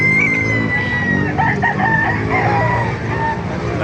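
Roosters crow over and over at a busy poultry market in Calumpit, Bulacan, with loud, overlapping calls filling the air close by and continuing without a break.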